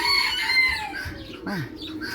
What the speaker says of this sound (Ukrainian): Вора, не налякай курочку.